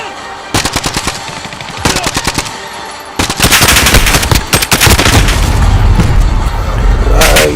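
Loud, close automatic gunfire in the Modern Warfare shooter, opening with short rattling bursts and building into sustained heavy firing with booming impacts underneath.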